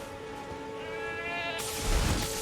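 Goats bleat in the open-world video game Elden Ring, a wavering bleat close and clear over a steady ambient game background, ending in a louder burst of noise.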